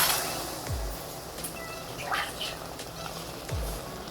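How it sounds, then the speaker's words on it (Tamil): Water poured from a tumbler into a pan of radish and black chickpea kara kuzhambu makes a steady, close splashing rush with a few soft low thumps, and no one speaks. "இந்த டம்ளரில் 2 டம்ளர் தண்ணி ஊற்றிருக்கேன்."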